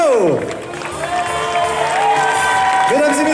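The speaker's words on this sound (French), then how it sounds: "Alors je compte sur vous pour les applaudir bien fort" A theatre audience applauds and cheers performers at the end of a show, a dense wash of clapping and shouts mixed with voices and sweeping background music.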